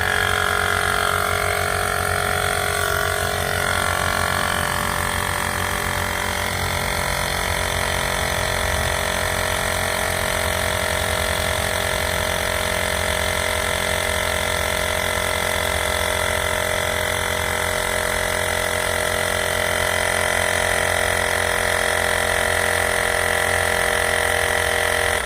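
A LASFIT portable tire inflator air pump runs steadily, a continuous buzzing motor drone with a rattly pulsing texture, close and unchanging throughout.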